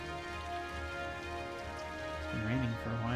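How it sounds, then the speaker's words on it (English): Steady rainfall ambience in the city-building game Cities: Skylines, a soft continuous patter beneath background music, with someone talking over it near the end. "It's been raining for a while"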